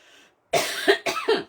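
A single person coughs close by: a faint breathy start, then a strong rasping cough and two shorter follow-up coughs in quick succession.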